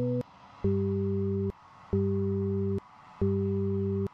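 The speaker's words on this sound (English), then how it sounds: "I think you're supposed to send Morse code or something." A radio in a heist video game gives out beeps in a Morse code pattern: steady, loud low tones of about a second each, repeated three times and split by short pauses and sharp clicks.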